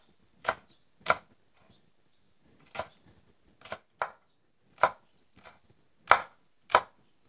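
Green chilies chopped coarsely with a knife on a board, about nine distinct sharp cuts in an irregular rhythm, close and clean against near silence.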